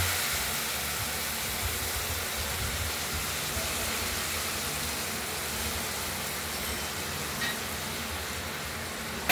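Spices sautéing in a pan with turmeric for a fried paneer and potato curry, a steady broad hiss and faint sizzle running the whole time.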